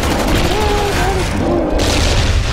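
A grenade goes off in a zombies video game, a loud, sustained rumbling blast with crackling debris-like noise, while a voice talks over it.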